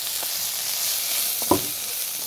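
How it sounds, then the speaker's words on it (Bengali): Onion dropped into hot oil fries with a steady hiss and crackle, with a sharper burst of sizzle and spattering midway as it hits the pan, close and moderately loud. "পেঁয়াজ তেলের মধ্যে দিয়ে দিলাম"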